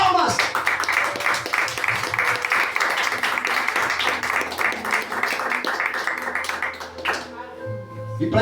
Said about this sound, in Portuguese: Será que o nosso Senhor Jesus merece uma salva de palmas?